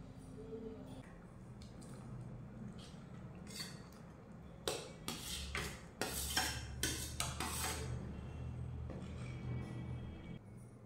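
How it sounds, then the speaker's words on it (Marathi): Cubed paneer drops into a gravy in a pan, followed by clattering and scraping of a spoon against the metal as it is stirred, a burst of knocks midway, fairly quiet and close. "तर या ग्रेव्ही मध्ये हे पनीर घालूयात।"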